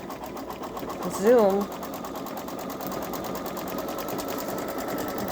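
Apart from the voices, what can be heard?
Babylock Solaris embroidery machine stitching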